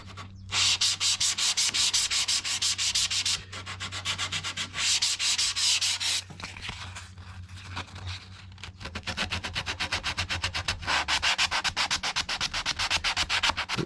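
Light hand sanding of a wooden toybox surface, steady rasping strokes in long bursts with brief pauses, close and fairly loud, with a low steady hum underneath.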